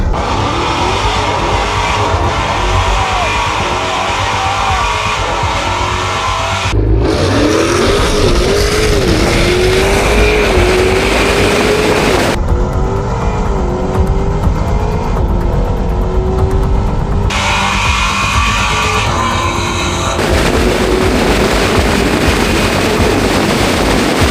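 A Dodge Challenger SRT Demon 170 engine roars loudly as it launches, revving up and shifting through gears in rising whines, a hard-accelerating run heard close and continuous throughout.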